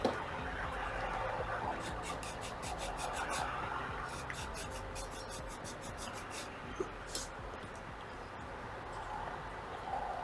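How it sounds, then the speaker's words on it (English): Wooden ship model parts from an Artesania Latina Santisima Trinidad kit are sanded to remove laser-cut marks, producing repeated rapid rasping strokes in short bursts over a constant background hiss. "just getting rid of these little laser cut marks where you cut them out, just smoothing them off"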